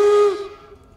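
Steam locomotive No. 119 gives a short, loud steam whistle blast that cuts off and trails into fading steam hiss.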